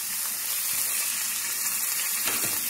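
Green chilies and curry leaves fry in a hot oil tempering for a papaya dish, giving a continuous bright sizzle with a few soft crackles and no talking.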